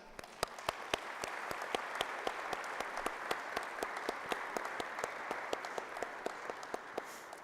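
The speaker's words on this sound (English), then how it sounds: "Please give them a round of applause." A crowd applauds at a military change of command ceremony for Ninth Air Force, with sustained, even clapping from many hands held at moderate distance for the whole stretch.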